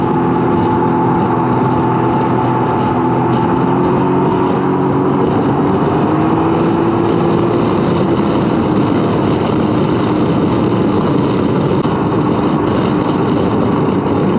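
A 2019 Can-Am Ryker three-wheeled motorcycle rides through town traffic with its engine humming loudly and steadily. Road and wind noise run beneath it, and another bike is following behind.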